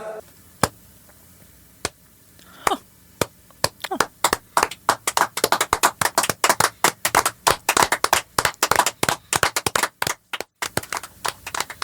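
A few isolated claps grow into loud, sustained audience applause with many hands clapping quickly together. The applause runs to near the end and then stops abruptly.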